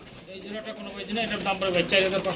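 Pigeons coo softly in close, throaty, rhythmic rolls, layered under someone talking.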